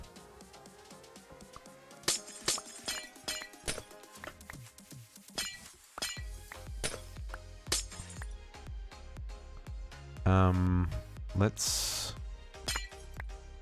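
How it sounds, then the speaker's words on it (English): Glass shatters repeatedly in a video game, sharp crashes and tinkling shards breaking out in bursts between quieter stretches, with someone talking now and then over the breaking. "We're breaking glass today."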